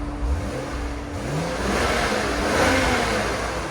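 A nearby 2012 BMW 535i with a 3.0L inline-six and straight pipes revs, climbing in pitch and loudness before settling, over a steady mechanical hum.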